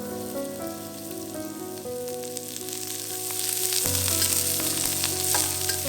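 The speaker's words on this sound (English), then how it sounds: "Fry them till they are fragrant and caramelize on the surface" Onions and garlic frying in about two tablespoons of hot oil over medium heat, a steady close crackling sizzle that grows louder midway, with faint tonal background music running underneath.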